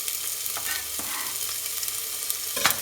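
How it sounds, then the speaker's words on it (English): Finely chopped onion frying in olive oil in a heated pan, a steady close sizzle throughout with occasional stirring scrapes and a brief louder burst near the end. "Let's fry it for a while"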